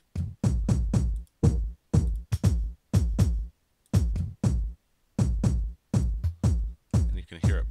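A kick drum sample is played in Reason 6 as a steady pattern of punchy, booming thumps in short groups with brief pauses between them, loud and alone.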